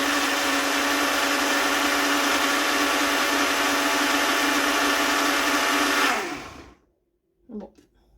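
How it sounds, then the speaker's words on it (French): Kitchen blender mixing dates whirs loudly and steadily at close range for about six seconds, then winds down and stops, followed by a brief clunk. "J'ai l'impression que ça se mixe pas les dates."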